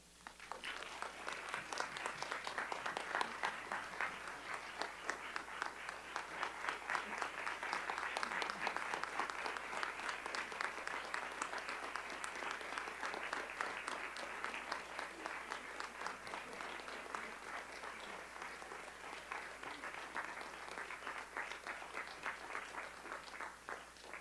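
Sustained applause fills a board of education meeting room, dense steady clapping from the audience lasting throughout, moderately loud and continuous without a break.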